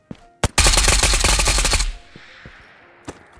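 Gunfire from a 9x39 rifle in the VR shooter Ghosts of Tabor: a couple of single shots, then a loud sustained automatic burst of rapid cracks lasting over a second, followed by a tail and one more isolated shot.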